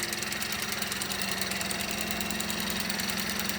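A Mini Cooper engine idles steadily while warming up after a cold start in a garage, a continuous even rumble with a faint knocking rhythm, close and alone with no talk.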